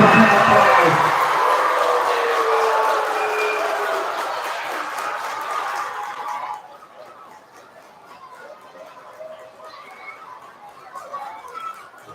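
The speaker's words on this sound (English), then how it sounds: "Give Byron a round of applause" An audience at a spelling bee applauds the winner with loud, sustained clapping that slowly tapers before dropping off sharply, leaving quieter room chatter and murmuring.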